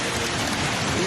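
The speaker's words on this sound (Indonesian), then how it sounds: "intensitas hujan sangat tinggi." Heavy rain pours down as a steady, dense hiss that fills the whole moment without any break, close and fairly loud during flooding from a river overflowing after downpours.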